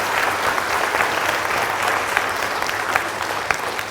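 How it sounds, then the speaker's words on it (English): An audience at a school open evening for prospective parents gives a steady round of applause, dense and continuous, filling the room with no speech over it. "I think they deserve one more round of applause, please."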